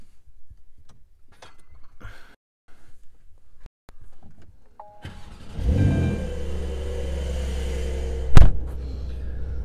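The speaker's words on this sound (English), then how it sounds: "Okay, let's start the car up." A Porsche 911 992 Carrera S with PDK and sports exhaust starts up after some cabin clicks, firing with a loud flare and then settling into a deep, steady idle rumble, with a sharp blip near the end.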